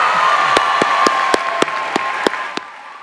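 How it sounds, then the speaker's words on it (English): Crowd applause and light cheering at an Ithaca College commencement, a dense, sustained roar of clapping with a few sharp individual claps standing out as it gradually tapers off. "How about another round of applause for Anshul"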